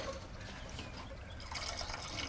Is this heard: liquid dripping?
yes